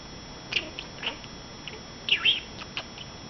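Baby budgie giving a few short, high chirps and squeaks at irregular moments, close and fairly quiet, with no talking.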